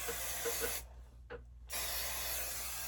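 Hairspray sprayed onto hair in a home setting: a steady aerosol hiss, stopping briefly for under a second, then resuming with a short puff between.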